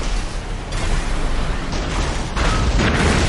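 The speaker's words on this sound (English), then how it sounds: "Charge thrower hits Fox." A charge thrower weapon in the mech combat game Armored Core 6 strikes an opponent with a dense, roaring blast. Bursts of rumbling fire and explosion noise fill the whole stretch, and two sharper pops stand out.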